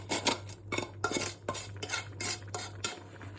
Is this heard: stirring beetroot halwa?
yes